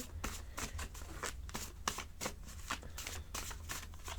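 Tarot cards being shuffled for a reading, a steady run of crisp riffling bursts close up, repeating about every half second with no voices.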